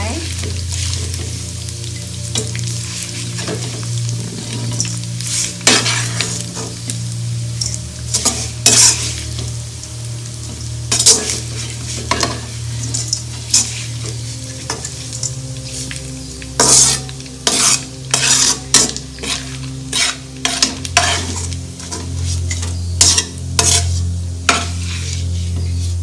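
Lightly fried food for nasi lemak is lifted out of a pot over a continuous sizzle and low hum, with repeated scraping and clinking of a utensil against metal, close and fairly loud.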